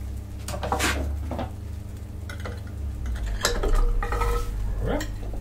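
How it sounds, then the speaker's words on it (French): A metal grill rack is lifted out of a pan used for salmon and crunchy vegetables. Sharp metallic clanks and scrapes sound close by, in irregular bursts over a low background hum. "Je vais enlever ma grille."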